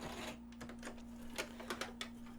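A sewing machine back stitching on a lapped zipper gives a quiet, brief run of mechanical clicks and taps over a steady hum, with a few sharper ticks spaced through the short stretch.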